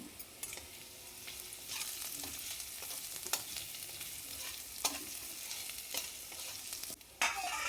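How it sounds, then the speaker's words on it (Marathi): Carrots sautéing with garlic paste in a pan for a green bean bhaji, a soft continuous sizzle broken by repeated spatula scrapes and stirs, close and fairly quiet. "लसण पेस्ट छान परतली की त्यात थोडे गाजर गाजर टाकून मी नरम करून घेते त्याला"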